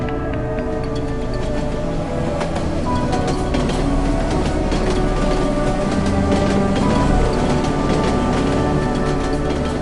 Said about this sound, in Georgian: მატარებლის ხმაური გიმნაზიელი გოგონას ოლია უკუჯავას ბედისწერის რიტმად იქცა.